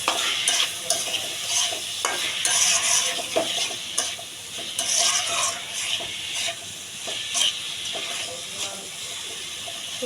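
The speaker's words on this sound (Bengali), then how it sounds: "তেলে ভালো করে ভাজা ভাজা করে পরে নারকেলের দুধ দেব।" Figs for a coconut-milk curry fry in hot oil, a steady, close sizzle with crackling bursts and the scrape of stirring throughout, with no talking.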